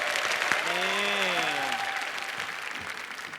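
Studio audience applause on a children's talent audition show, a continuous, even roar of clapping with cheering voices and a brief whoop rising over it early on.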